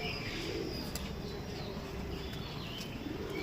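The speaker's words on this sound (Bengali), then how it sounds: "আবার একটা পায়রা নিয়ে এসেছি, এটাও শখ পারপাস, চান্দাখানি পায়রা" A male Chandakhani fancy pigeon coos softly in low, rolling notes over a steady background hiss.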